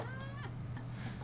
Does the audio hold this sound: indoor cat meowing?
yes